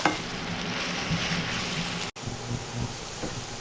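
Sliced onions, about 300 grams, frying in hot oil, a steady close sizzle and bubbling crackle throughout with one brief dropout.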